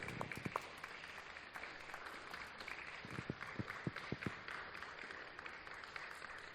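An audience at a leadership talk applauds a man back to his chair, a soft patter of scattered clapping heard from a distance, with a few sharper individual claps standing out.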